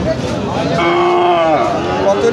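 A native cow moos loudly and close by at the Lohay livestock market in Gazipur, one drawn-out call lasting about a second, with crowd chatter and voices in the background.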